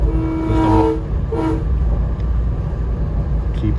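A train passes at a former junction station site, sounding its horn in two tonal blasts over a steady low rumble of rolling wheels.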